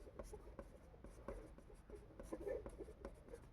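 Pen or chalk writing out a Class 10 maths solution about an isosceles triangle ABC, heard as a series of short, quiet scratching strokes in close, uneven bursts with no talk.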